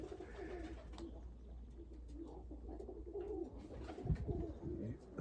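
Low, soft coos of Budapest pigeons repeat through the clip over a steady background hum, growing a little louder toward the end.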